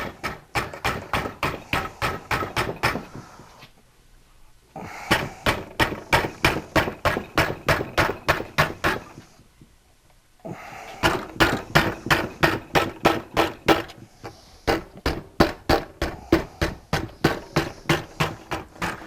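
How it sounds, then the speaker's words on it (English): Rapid, even taps of a soft rubber hammer on metal, in three long bursts separated by short pauses, close and steady in rhythm. "I start off with a very soft rubber hammer, and I just go towards me."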